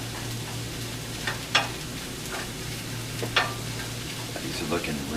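Mushrooms sautéing in a pan for a mushroom risotto, a low steady sizzle with a few sharp spatula clicks and scrapes, close, with a faint background hum.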